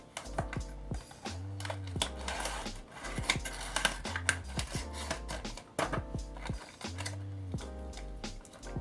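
Cheap Bluetooth earbuds being unboxed, with close crinkling, tapping and rustling of packaging in irregular bursts along with a few clicks, over a faint steady background tone.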